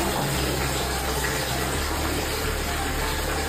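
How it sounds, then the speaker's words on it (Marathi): Water pours steadily into a container, a continuous rushing gush with no pauses, fairly close and moderately loud. "चला आपण भरूया पाणी।"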